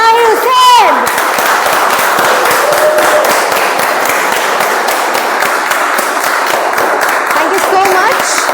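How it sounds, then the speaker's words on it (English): A room full of people at a club meeting breaks into loud, sustained applause, the dense clapping holding steady for several seconds after a brief voice at the start. "deserves a biggest round of applause"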